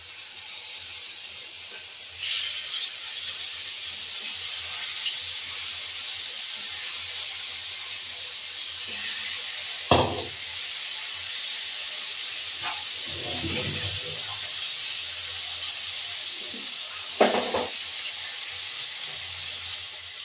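A bhetki fish head fries in a pan, giving a steady hiss of oil throughout, with a few brief clatters and scrapes of utensils rising sharply above it.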